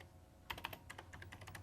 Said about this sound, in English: I'll define the script by just typing in a name.